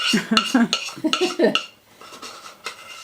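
Thick homemade vegetarian fudge scraped from a pot into a pan, with clinking, scraping utensil strokes against metal cookware that come in quick bursts early, then thin out into quieter scattered taps.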